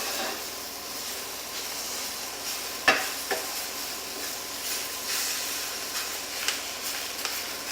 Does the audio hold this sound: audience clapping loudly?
no